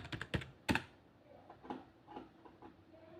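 Rapid taps on a mobile phone screen while text is entered, a quick irregular cluster of close clicks at first, then softer scattered taps with no talk.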